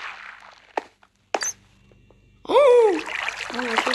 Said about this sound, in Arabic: انا بروح اطيح على المي.